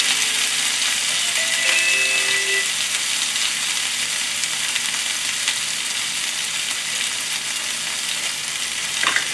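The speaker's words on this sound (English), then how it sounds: "I can hear the sizzle sound of the dish that you cook" Steady, loud sizzling of tofu and vegetables frying in a pan for moo shu chicken, a continuous crackling hiss with no talking.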